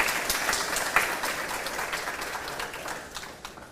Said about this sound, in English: Can we get one more round of applause for all our consumer clothing participants?